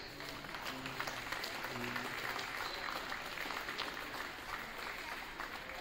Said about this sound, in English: Let's give our parents one more round of applause of appreciation for all they do for our program